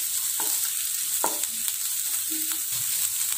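Onions fry with ginger-garlic paste in a pan for butter chicken, giving a steady close sizzle broken by a few soft scrapes of a stirring spoon.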